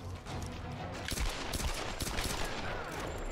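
Rapid rifle fire from Tomb Raider rings out in a steady, dense stream of close, overlapping shots with sharp cracks standing out along the way, loud throughout the short burst with no talking.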